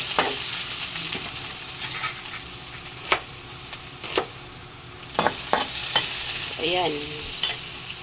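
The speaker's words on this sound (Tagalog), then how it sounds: "Okay, so isasatay natin yung bawang," Garlic and onion sauté in a hot pan under a soft constant sizzle, punctuated by several sharp spatula scrapes and clinks; a voice says one short word.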